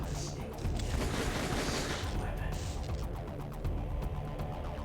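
Dense, continuous gunfire and explosions from the video game Metal Gear Solid: The Twin Snakes fill the scene, with loud rapid shots and booms under a muffled voice.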